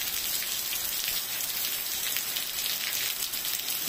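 Heavy rain pours down steadily, a loud, dense, continuous hiss of drops hitting surfaces close by, with no voices.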